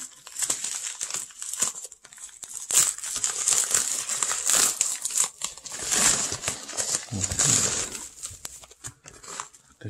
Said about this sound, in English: let's open it up. Don't want to ruin this package.